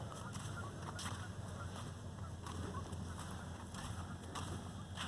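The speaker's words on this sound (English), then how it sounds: "Some geese you can hear." Geese honk repeatedly over a steady low rumble of wind or engine noise, with brief sharp calls scattered throughout.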